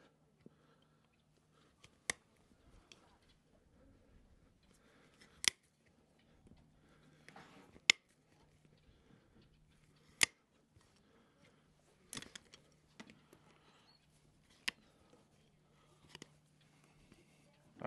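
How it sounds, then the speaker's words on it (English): Hoof nippers snipping off the toe of an animal's hoof, sharp isolated crunching cuts spaced a couple of seconds apart over a quiet background with faint handling noise. "I'm just gonna cut this toe off."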